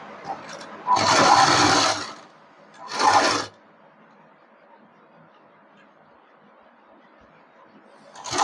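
A sewing machine runs in two short bursts while stitching a princess cut blouse, a longer whirring run followed by a shorter one, then quiet room tone.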